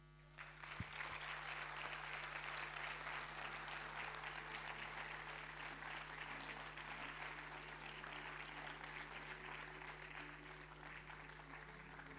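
Sustained applause from an audience at a citizens' awards evening, steady clapping throughout with a low hum underneath.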